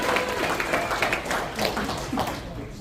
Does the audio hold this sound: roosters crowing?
no